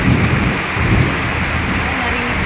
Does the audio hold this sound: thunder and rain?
yes